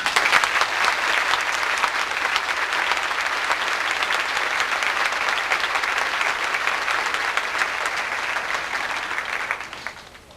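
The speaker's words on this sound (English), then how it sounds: "All of you are deserving of our applause." Sustained applause from a school graduation audience honoring the parents of the co-valedictorians, a dense, even wash of many hands clapping for about ten seconds before tapering off at the end.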